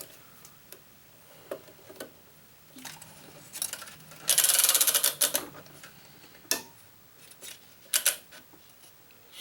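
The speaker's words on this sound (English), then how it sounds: "So I apply tension and move my clamp." A Gamma drop weight stringing machine pulling tension on racket strings, with scattered clicks and ticks from clamps and one louder rasping burst in the middle.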